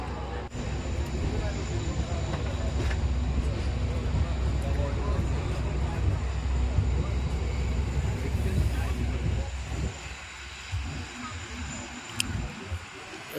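A passenger train pulls out on the way to Ratnagiri, a loud steady rumble of wheels and engine filling the carriage, easing off near the end as voices talk over it.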